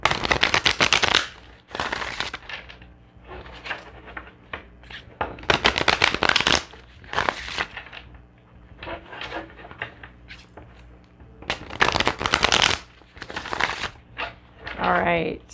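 Tarot cards are shuffled by hand in repeated bursts of crisp riffling and slapping, close and loud, with quieter handling noises and pauses in between.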